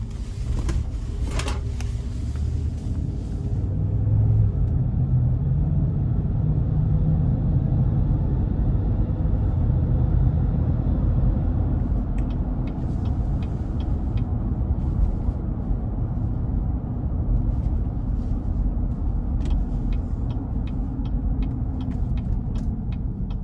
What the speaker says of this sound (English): we're gonna see how this Yukon Denali holds up as we take it on a quick test drive